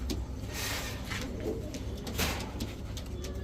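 Pakistani jumpair racing pigeons coo in low, steady, overlapping murmurs close at hand, with a few brief brighter chirps and wing rustles scattered through.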